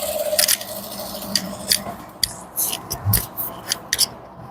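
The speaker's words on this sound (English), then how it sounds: "so you cut the facing in this form where you have a folding that is bigger than 1 inch" Scissors snip through fabric facing for a danshiki, a series of short crisp cuts in an irregular rhythm, close and fairly clear with no talking.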